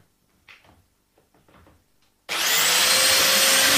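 After a few soft taps and handling noises, a Mafell DD40P dowelling machine starts abruptly and runs with a loud, steady whirring drone to the end.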